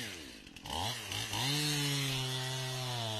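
A freshly sharpened Stihl chainsaw revs up while felling a standing dead elm, climbing from a rough idle to a steady loud high whine, close by and alone.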